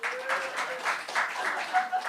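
Rhythmic audience clapping at a comedy show sounds as a fairly quiet, quick burst of claps, lightly pulsing in intensity, with a voice faintly present.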